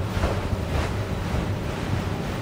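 An Esposito Positano 32 open motorboat cruises at about 20 knots through a series of bow waves, heard as a continuous rushing wash of water and heavy wind buffeting with a low, steady rumble beneath.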